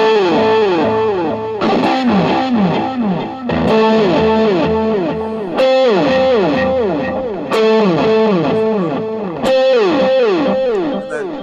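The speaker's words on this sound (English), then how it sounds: "then it goes into this really simple thing on the delay pedal" An electric guitar played through a delay pedal on a Line 6 multi-effects unit picks a repeating, distorted figure, each note trailing off in echoing repeats, loud and steady without speech.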